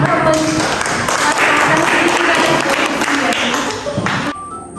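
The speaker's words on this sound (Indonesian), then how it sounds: "Ya, kita berikan aplaus kepada teman kita" A classroom group applauding a classmate at a school positive-culture session, a dense burst of clapping held for about four seconds before stopping abruptly, with a voice faintly under it.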